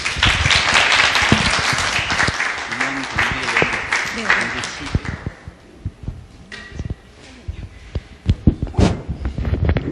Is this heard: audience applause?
yes